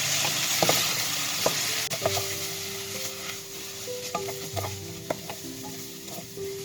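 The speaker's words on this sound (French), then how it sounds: "Je vais ajouter mon boulgour directement. Je fais revenir." Bulgur sautéing in a hot pan for turkey skewers with a side, a steady sizzle broken by scraping stirs and occasional light clinks, close and continuous with no talking.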